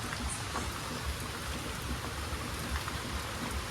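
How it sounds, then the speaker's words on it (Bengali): Heavy rain pours down in a constant dense hiss, with scattered louder drops pattering close by. "আজকে বৃষ্টি থামবে না বলে মনে হচ্ছে"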